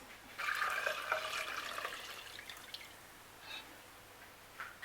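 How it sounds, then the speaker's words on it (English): Cooled beetroot juice poured into a bowl: a close liquid stream gurgling and splashing for about two seconds, then tapering into a few faint drips and trickles, with no talking. "we're going to pour it into a bowl like this"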